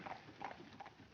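Horses' hooves clip-clop steadily at a distance on a street in a 1953 mystery film, faint and even-paced under a soft background hiss.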